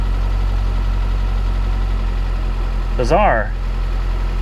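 A Saab 9-3 Turbo engine with low oil pressure idles steadily and close, a constant low drone throughout, with a brief voice speaking near the end.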